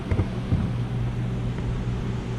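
A running air conditioner gives a steady, low mechanical hum in a workshop on a hot day, with a faint constant drone and no talking.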